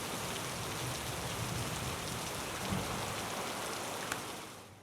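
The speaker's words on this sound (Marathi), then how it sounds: "मध्यरात्री गोंदिया जिल्ह्यात मुसळधार पावसाने हजेरी लावली" Heavy midnight monsoon rain pours down in Gondia district, Maharashtra, a dense, steady hiss of downpour with no voices, holding even throughout and easing slightly at the very end.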